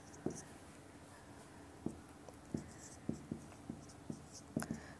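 Chemistry equations being written out by hand: a quiet series of sharp pen or chalk taps and short scratchy strokes, irregularly spaced, close but faint, with no speech.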